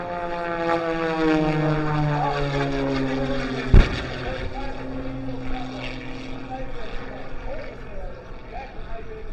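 Aerobatic propeller airplanes at the Fort Wayne air show roar past in a loud, sweeping flyby whose engine pitch drops as they pass, with a sharp bang midway and an announcer talking over the noise.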